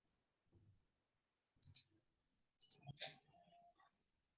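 Computer mouse clicking in a quiet room, a few crisp isolated clicks, with a pair near the middle and a double click shortly after, close and otherwise silent.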